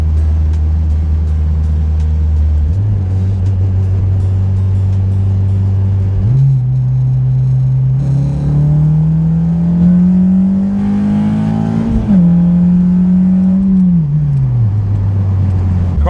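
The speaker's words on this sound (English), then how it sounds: "I'll probably just do 1 pull, second gear, third gear" A Honda K24-powered car pulls hard through second and third gear, the engine note climbing steadily in pitch with a sharp drop at each upshift, loud and close throughout, with no talking.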